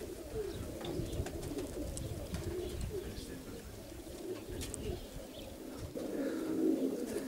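Katsagogas grey pigeons cooing, soft repeated low coos over a faint continuous background, fairly quiet and near, with no talk.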